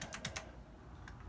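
Keys tapped on an Apple IIc computer keyboard, a few quick faint clicks in a short burst followed by one more isolated press.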